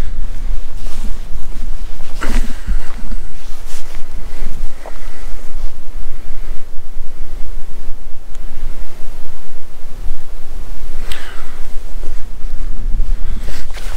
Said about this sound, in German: Und auch ganz schön windig.